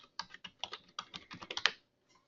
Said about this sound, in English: and then you type in your email address